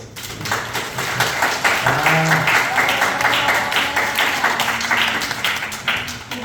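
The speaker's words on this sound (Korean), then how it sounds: "큰 박수로" Audience applause at a Korean hair-salon education event, sustained clapping from a crowd filling the clip at steady volume with no clear talk over it.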